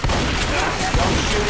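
Steady, dense gunfire from Left 4 Dead 2 fills the whole stretch as a continuous loud fusillade, with thumps and booms mixed in and no clear break.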